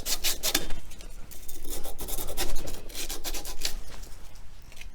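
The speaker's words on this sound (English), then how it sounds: "take a piece of sandpaper, go like this" Sandpaper scrubs a copper water pipe end in quick back-and-forth strokes while a water heater is being replaced, a close, steady rasping that runs in bursts for several seconds.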